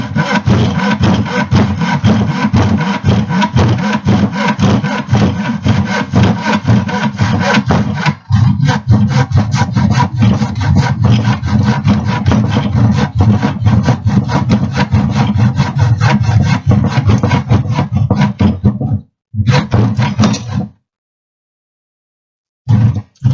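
Hand saw cutting wood for a tenon, a steady rapid back-and-forth rasp of strokes close up and loud, briefly pausing near the middle and stopping toward the end.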